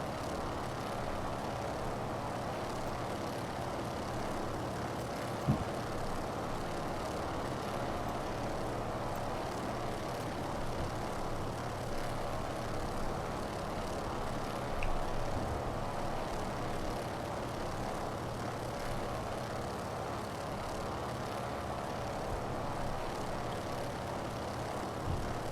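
A propeller aircraft engine drones steadily in flight in Microsoft Flight Simulator, a constant low hum with a couple of small clicks and no talking.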